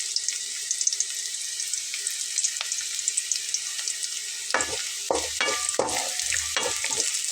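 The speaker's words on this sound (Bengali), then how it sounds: "আমি আরও কিছুক্ষণ ভেজে নেব।" Onion and garlic sizzle in a pan with a steady, bright hiss, joined later by several rhythmic scraping stirs of a spatula against the pan.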